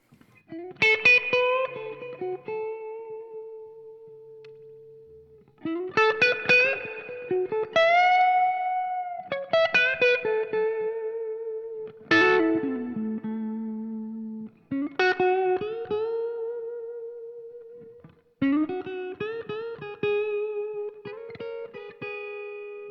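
Electric guitar played through a Tone King Imperial all-tube preamp into a Marshall JMP with the reverb turned up, ringing out in a series of strummed chords and sustained notes with long reverb tails, loud and alone.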